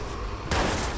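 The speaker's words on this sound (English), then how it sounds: "let's use the shotgun again here" A single booming shotgun blast goes off in the Watch Dogs video game, an abrupt loud broadband burst halfway through that holds steady to the end over dense background game noise.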